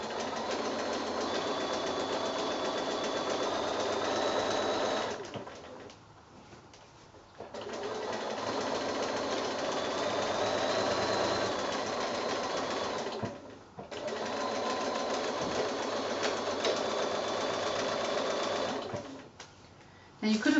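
A sewing machine runs steadily through free-motion quilting on a Bugs in Boxes quilt, a close rapid whir in three long stretches broken by brief stops, with talking over it.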